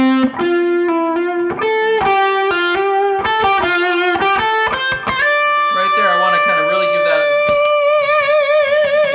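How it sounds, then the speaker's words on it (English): Electric guitar through a heavy OCD distortion pedal, sustained notes and chords ringing out with a rich, buzzing overtone, while someone talks briefly over the playing. "we've got more distortion with this OCD pedal."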